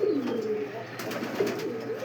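Pakistani Saharanpuri pigeons coo in a loft, two close, soft, rolling coos about a second apart over a faint background hum.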